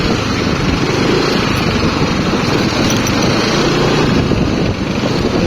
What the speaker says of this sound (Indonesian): Nah, ini suara mesin sudah sak-sak ya